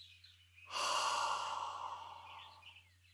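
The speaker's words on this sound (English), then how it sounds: "Take a deep breath in." Breath let out in a long, soft exhale after a deep inhale during a calming rest moment in a preschool learning program, a single airy sigh lasting around two seconds, close and quiet.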